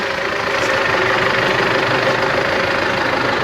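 A Belarus tractor engine runs steadily at a low, even throb with a slight knocking texture, close and continuous throughout, with no voices.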